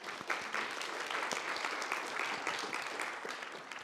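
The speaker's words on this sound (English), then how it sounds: "can we have a round of applause for Kat" A lecture hall audience claps for a guest about to join a computing class, steady many-handed applause at a modest level throughout, filling the room without voices.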